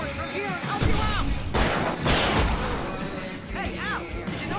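Fireworks in the Alan Wake game crack and boom in quick bursts, mixed with shouting voices and whistling fizzes over a constant dense din.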